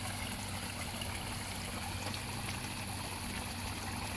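A small waterfall spills into a backyard pond with lilies and fish, making a steady, close trickling and splashing that stays even throughout, with no voices.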